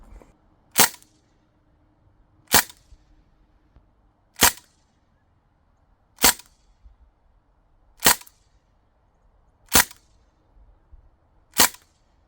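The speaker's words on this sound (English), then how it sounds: "I thought I'd do 7 shots just to get a base" Seven sharp, snappy reports from a Crosman R1 DPMS SBR air rifle, evenly spaced about two seconds apart, each a loud crisp crack with a quick decay over a quiet background and no talking.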